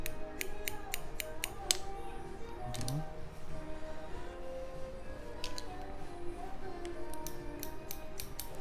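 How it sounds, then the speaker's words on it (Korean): Barber's scissors snip a man's front fringe in a hair salon, with quick clusters of crisp, close metallic cuts at the start and end and sparser snips between, and no talking. "그냥 지금 원장님 이렇게 앞에 머리 지금 이렇게 자르잖아요"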